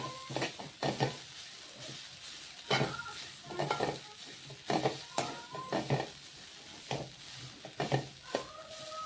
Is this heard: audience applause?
no